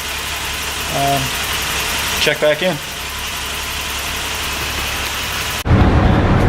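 A BMW E30 engine runs steadily while driving, a continuous low drone through the whole stretch, with a brief voice and short rattles partway in and a louder rush near the end.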